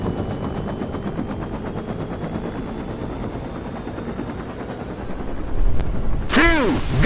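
A military helicopter in the video game Arma runs its engine and rotors, a loud, steady, close thrumming chop that swells near the end as it spools up.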